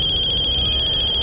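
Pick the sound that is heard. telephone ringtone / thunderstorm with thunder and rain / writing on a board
telephone ringtone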